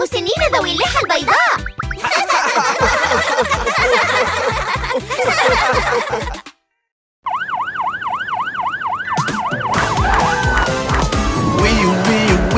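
Cartoon police car siren in an Arabic children's song, a loud wailing tone rising and falling over bouncy music, cut by a brief silence, with a singing voice mimicking the siren.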